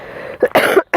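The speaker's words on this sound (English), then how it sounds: "Jesus, my cough." A single harsh cough breaks into a few rough, throaty bursts in quick succession, loud and very close, followed by a brief silence.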